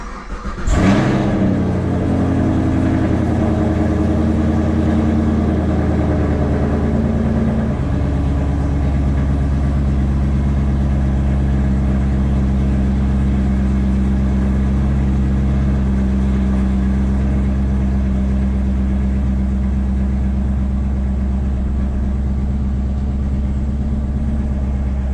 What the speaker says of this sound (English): I'm about to crank up the car, see if the AFRs are good, make sure the car's running good